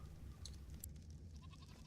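Sheep bleating in the video game ARK: Survival Evolved, a few short, faint bleats over a low background hum.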